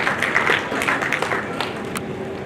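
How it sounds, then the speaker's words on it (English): Audience applause at a regional quiz competition round, a steady broadband patter of many hands clapping, fairly close and even for a couple of seconds before thinning slightly toward the end. "Yes, a bigger round of applause please."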